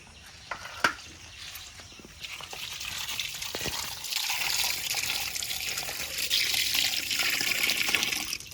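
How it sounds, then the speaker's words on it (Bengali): Tap water runs steadily into a sink as freshly cut hilsa fish are washed, a continuous close gush and splash with a few sharp clinks early on, strengthening toward the end, no talk. "মাছগুলো কাটা হয়ে গেছে এবার ধুয়ে নেব"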